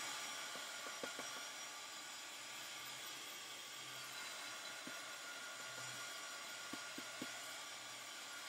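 A hair dryer blows on wet mixed media artwork as a steady, soft whooshing airflow, with a few faint clicks and taps scattered through it.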